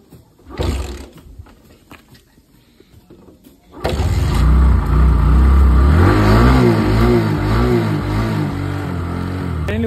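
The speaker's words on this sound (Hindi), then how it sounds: "बाइक हमारी स्टार्ट हो चुकी है।" A motorcycle left standing for a month in snow turns over, catches on the second attempt, then roars loudly and revs unevenly while idling close by.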